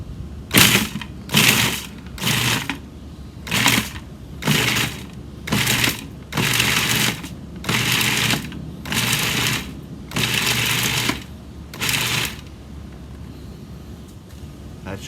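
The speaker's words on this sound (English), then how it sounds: "We're gonna pulse this into small pieces here." A food processor pulses about a dozen times in short, even bursts, each a loud whirring chop separated by brief gaps, close by with no talk.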